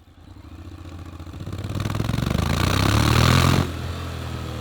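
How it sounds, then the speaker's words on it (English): A 2024 Honda X-ADV 750 scooter-style motorcycle riding on a UK road, its engine note steadily building and rising as it accelerates, then dropping abruptly to a lower steady drone, with wind rumble throughout and no talk. "the Honda XADV 750"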